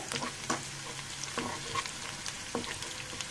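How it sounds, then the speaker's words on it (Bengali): Chopped onion and garlic frying in oil until browned for a lentil and snake gourd curry, a steady close crackling sizzle with intermittent scraping stir strokes and no voices. "দেখুন আমি বেজে নিচ্ছি অবশ্যই বেজে নিতে হবে ভালো মতো"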